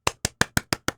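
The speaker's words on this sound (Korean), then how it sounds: "박수 소리." Six sharp hand claps in an even, quick rhythm, close and crisp against near silence.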